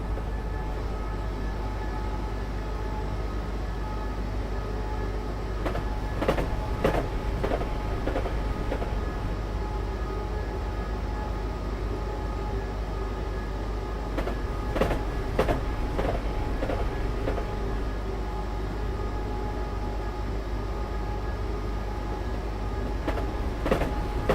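A train in Train Simulator rumbles steadily along with a constant low drone, broken by two brief bursts of rhythmic clicking from the wheels over track joints.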